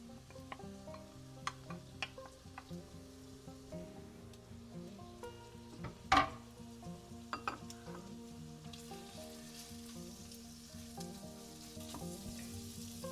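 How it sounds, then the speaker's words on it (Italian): Small pieces of smoked salmon frying in a pan for creamy tagliatelle, a soft continuous sizzle with scattered crackles and one sharp utensil clink against the pan, close and fairly quiet. "A questo punto aggiungo il salmone affumicato tagliato a pezzettini."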